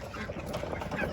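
Chickens on a family farm, along with ducks and turkeys nearby, cluck and murmur in a dense, steady flock chatter at close range, with no clear talk over it.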